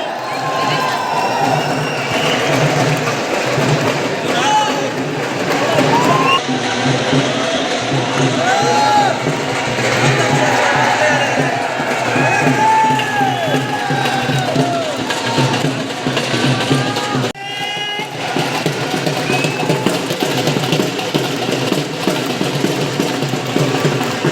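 An audience at a stock market growth conclave applauds and cheers in a loud, sustained roar of clapping and shouting that fills the hall, with a voice heard over it.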